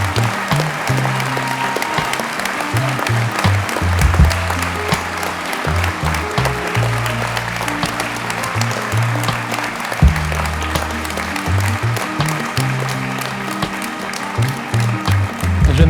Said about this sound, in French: Un tonnerre d'applaudissements pour madame Léone Pierrecot.